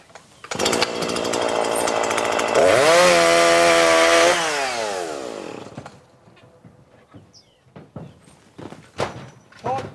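A chainsaw revs up and cuts through wood for a few seconds, its loud whine dropping in pitch under load before it stops, followed by scattered knocks and thuds.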